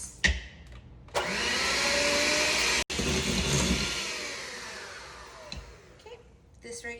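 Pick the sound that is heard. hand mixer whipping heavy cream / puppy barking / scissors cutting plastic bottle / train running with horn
hand mixer whipping heavy cream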